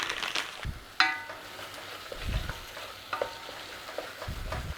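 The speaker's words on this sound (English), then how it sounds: "Cook it in there with the onion and garlic." Tomato cooks with onion and garlic in a pot, a gentle low sizzle broken by spoon scrapes and a metallic clink against the pot.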